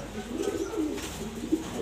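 Pigeons in a pet loft coo in soft, low murmurs that run steadily through the short stretch, fairly faint, with one slightly louder note near the end.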